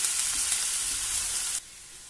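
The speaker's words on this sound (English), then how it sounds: "heat some oil, add in finely chopped onions. Cook till they are light brown in color." Finely chopped onions frying in hot oil for chole, a steady loud hiss and sizzle close up that drops to a quieter sizzle near the end, with no voices.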